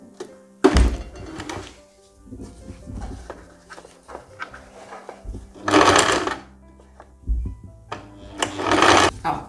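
Sewing machine stitching a blouse seam in short bursts, with heavy thunks as fabric is handled and the machine starts and stops, close and fairly loud.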